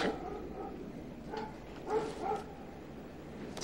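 Dog barking a few times at moderate distance, short yips and bow-wows spread through a quiet room tone, with no talking.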